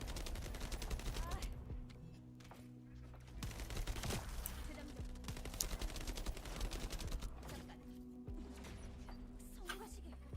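Rapid bursts of gunfire fill a boss fight in the video game The First Descendant, layered over continuous game music and effects, with no voices.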